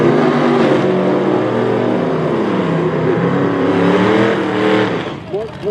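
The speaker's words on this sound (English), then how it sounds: "Small block Ford powered Fox body Mustang." A small block Ford powered Fox body Mustang races down a drag strip at Tulsa Raceway Park, its loud engine roaring steadily at full throttle before easing off near the end.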